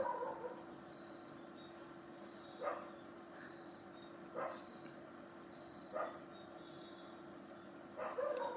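A dog barks at night, a few short distant barks spaced several seconds apart, standing out over a steady chorus of insects and crickets.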